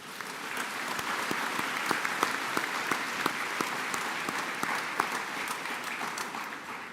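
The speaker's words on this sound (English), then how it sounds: "Can we please give them a round of applause as well?" A college commencement audience claps together in a sustained round of applause, a steady dense patter with a few sharper claps standing out, with no talk over it.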